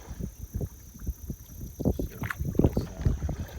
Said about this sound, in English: the wind's, once you get out and open a little bit, the wind's picking up just a tad